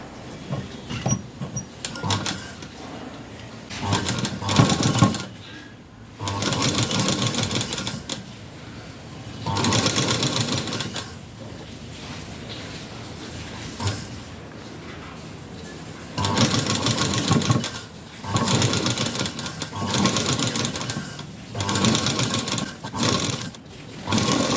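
A sewing machine stitches the front piece of a blouse in repeated bursts of rapid needle chatter, loud and close, separated by short pauses as the fabric is adjusted.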